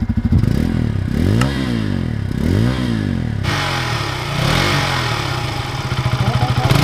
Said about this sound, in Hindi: तो एग्जॉस्ट में अगर आपको साउंड सुनाएं